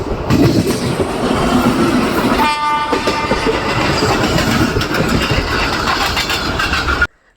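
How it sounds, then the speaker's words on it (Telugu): A Bhubaneswar–Chennai Central weekly special train pulls into a platform, its loud, steady rumble and clatter of wagons rolling past close by, with a short horn blast partway through. "ప్లాట్ఫామ్ నెంబర్ 2లోకి ఇంకో ట్రైన్ అయితే వచ్చింది కదండి"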